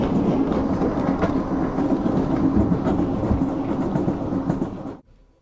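A train on the move gives a steady rumbling ride noise with faint rhythmic clatter, heard from onboard and continuous until it cuts off abruptly near the end.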